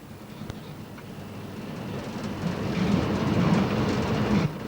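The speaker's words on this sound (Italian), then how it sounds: "Il treno ora esce e tallona il deviatoio." A train on the Gailtalbahn line between Villach and Kötschach-Mauthen rumbles through a trailable switch near Rattendorf-Jenig, a steady, loud rolling noise that grows toward the end with faint rhythmic clatter.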